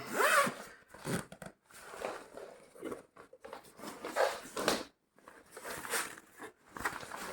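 A combat medic backpack is unzipped in several short, close zipper pulls separated by pauses, along with rustling of fabric and handling of the pack.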